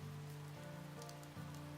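Steady, soft rain patters continuously in the cozy video game Willowmist Emporium, a faint even wash of drops beneath low, sustained musical tones.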